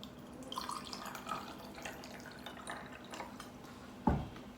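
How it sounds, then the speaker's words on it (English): Kangen water is poured into a glass in a series of small splashing trickles and drips, ending with a sharper splash, with no talking. "I'll just put it in this glass and put again Kangen water."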